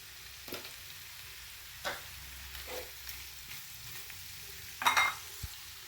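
Cooked beef going into a pan and being stirred, with a low steady fry and a few scattered scrapes, a louder clatter toward the end, and no talking.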